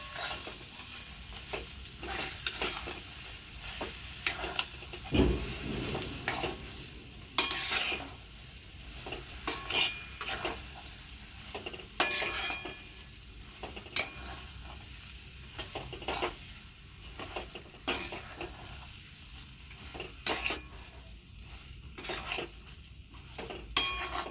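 Spatula stirring a chickpea lentil flour zhunka in a pan, continuous quiet scraping strokes over a soft background sizzle, steady and close with no voices.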